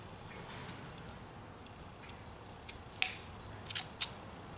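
Scissors snip through a drawn paper pattern of ears for a whittling carving, a few quiet, close cuts clustered near the end over a faint background hiss.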